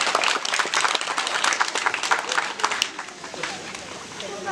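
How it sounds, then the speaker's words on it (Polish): A crowd claps vigorously at the outdoor unveiling of a volunteer fire brigade mural in Choceń. Close, dense applause fades over the last seconds, with voices present. "Wielkie brawa należą się Wam."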